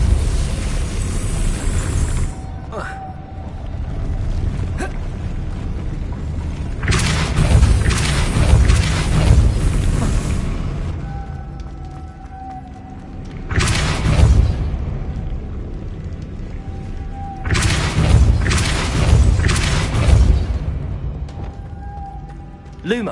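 Depulso force-push spell cast repeatedly in Hogwarts Legacy on PS5, several loud booming bursts separated by quieter gaps, each a broad rumbling blast lasting a few seconds, with faint game tones between.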